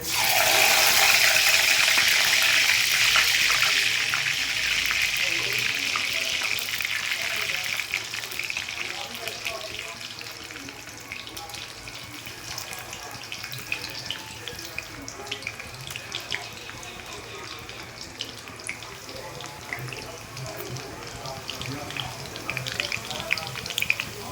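Garlic dropped into hot oil in a kadhai sizzles loudly at first, then settles into a steady, gradually softening frying crackle with small pops, close by and without talk.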